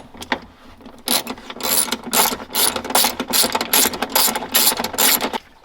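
A hand ratchet loosens a 13 mm bolt on a BMW car battery mount with quick, close, rhythmic pawl clicking in fast bursts and short pauses.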